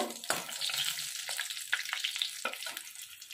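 Cardamom, cinnamon, cloves and dried red chilies crackle and sizzle in hot oil in a pan, with a dense spitting hiss and a few scraping stirs.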